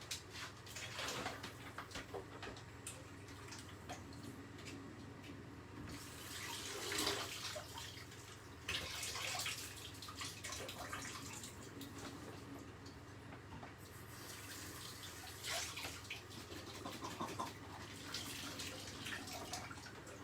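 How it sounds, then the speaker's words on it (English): Water drains from a pot of cooked peas in a kitchen, a steady, low running pour with a few louder splashing surges, lasting about twenty seconds. "I'm just draining these peas now."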